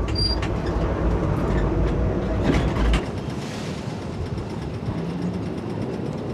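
Melbourne trams run along street tramway tracks on Swanston Street at peak hour in 1994, giving a loud, steady rumble and rolling clatter that is heaviest in the opening seconds and then eases slightly.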